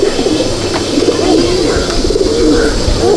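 Pigeons in a loft, including a pair of Zeria pigeons, coo softly and continuously amid a dense, noisy background of flock murmur.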